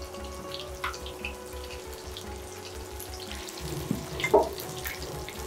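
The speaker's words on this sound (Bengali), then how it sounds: "এবার আস্ত মুরগিটাকে গরম তেলে ছেড়ে দিয়ে ভেজে নেওয়া হবে" A whole chicken deep fries in hot oil on a medium flame, giving a steady soft sizzle and bubbling crackle close by, with a few louder spits near the end and no talk.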